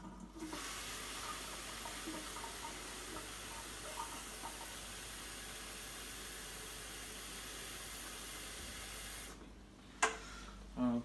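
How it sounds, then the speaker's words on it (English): Warm tap water runs steadily into a record cleaning trough, a continuous close hiss and splash that holds for about nine seconds before stopping, followed by a couple of small knocks. "I'm going to put some warm water"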